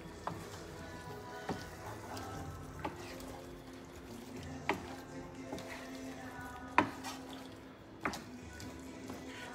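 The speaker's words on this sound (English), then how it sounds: "So I'm just going to stir all of this in now." A chilli cheese sausage mixture being stirred in a pan: soft steady sizzling with scattered wet clicks and scrapes of the spoon, quiet and close, with no talking.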